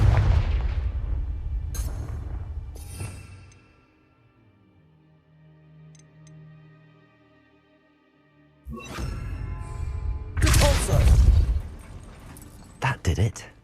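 Booming blasts of the Confringo explosion spell in Hogwarts Legacy, with heavy impacts at the start and a louder cluster of bursts later, separated by a quieter stretch; a voice speaks during the sequence.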